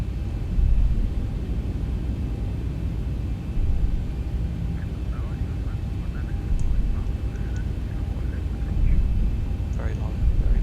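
Boeing 737-800 (Zibo) jet heavily loaded on its takeoff roll in a flight simulator, a steady broad engine roar and rumble lasting throughout, with faint scattered cockpit sounds over it.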